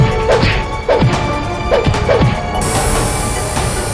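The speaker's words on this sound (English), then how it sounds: "Police and mercenaries engaged in a breathtaking hand-to-hand combat." Animated hand-to-hand combat between police and mercenaries during a prison brawl: five sharp smashing thwacks land in uneven succession, then a steady high-pitched tone sets in and holds.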